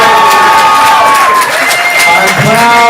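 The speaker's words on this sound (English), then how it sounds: "give a big round of applause." A comedy class showcase audience applauds and cheers loudly for newly minted comedians, a dense wall of clapping with whoops and shouts throughout.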